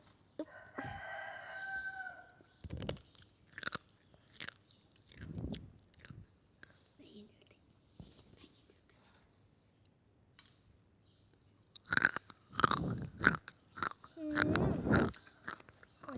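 Crunchy bites and chewing of instant Mama noodles, eaten close up for ASMR; a few separate bites early on, then a louder cluster of crunching toward the end, with a voice briefly heard.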